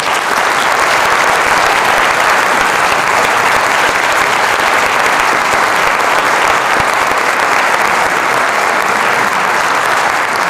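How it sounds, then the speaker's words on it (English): A large audience at a school music awards ceremony gives students a sustained, loud round of applause, with thick, even clapping that holds steady for about ten seconds and no talking over it. "if we could just give our students one more round of applause"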